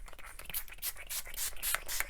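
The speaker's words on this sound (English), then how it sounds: "I'm going in with the Maven Beauty Rose Water Setting Spray today" Maven Beauty Rose Water setting spray misted onto a face in several quiet, short hissing spritzes, soft and close with little else around.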